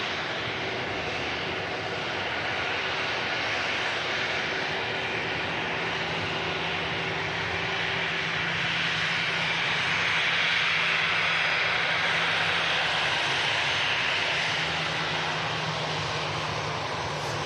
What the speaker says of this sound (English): Another heavy departure coming up.